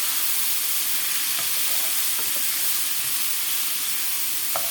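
Soaked basmati rice stir-roasted in a pan for Afghan pilaf, giving a steady, loud, close sizzling hiss with a few soft scraping clicks of stirring and no voices.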